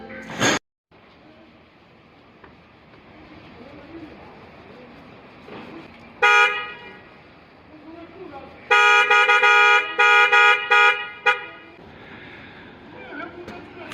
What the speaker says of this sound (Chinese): 丰田 RV4 换了一对喇叭